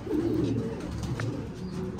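Racing pigeons cooing in a loft, several soft overlapping coos and throaty burbles against a steady low murmur of birds, close and continuous with no talking.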